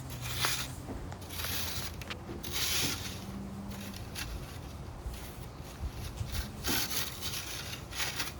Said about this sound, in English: For the pee on the dirt, we just rake it out to help it dry a little bit quicker.